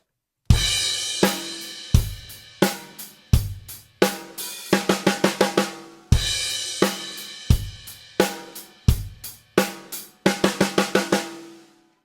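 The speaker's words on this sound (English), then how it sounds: "So that would sound like this as a fill." Drum fill on snare, rack tom and floor tom, played twice in a row: sharp, loud hits with quick decays stepping through the kit, each pass ending in a fast flurry of strokes.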